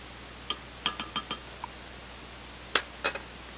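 A spoon stirring milk and white vinegar together in a cup gives a few light, scattered clinks, with a short cluster early and a couple of sharper taps near the end, close and quiet with no talking.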